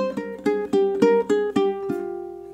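Eight quick plucked ukulele notes in a spooky sequence, evenly spaced sixteenths with bright attacks, close and solo, the final note sustaining and decaying.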